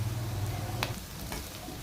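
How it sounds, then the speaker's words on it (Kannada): Sprouted pulses sizzle and fry in a hot tempering for a healthy sambar, with steady close crackling and a couple of brief stirring scrapes, no voices. "ಒಗ್ಗರಣೆ ಒಳಗಡೆ ಕಾಯಿ ಹಾಕ್ಕೊಂಡಿದ್ದೀನಿ."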